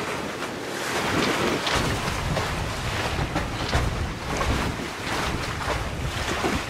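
Steady wind gusting and rushing past a sailboat on open sea off northern Martinique, with waves and swell washing against the hull, loud and continuous with surging gusts and no voices.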